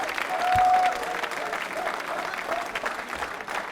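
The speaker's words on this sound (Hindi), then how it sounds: "तालियां जोरों से बजाइए गणेश जी के लिए।" An audience claps for Ganesh Verma at a quiz show, a dense steady wave of applause that swells briefly near the start and then holds at an even level.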